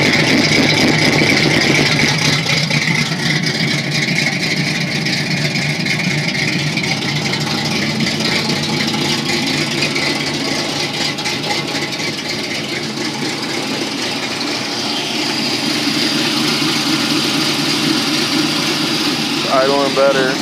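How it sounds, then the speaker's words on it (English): A 1978 Chevrolet Camaro Z28 engine with a new camshaft idles steadily and loudly for about twenty seconds, a continuous rumble with voices murmuring underneath. "Idling better."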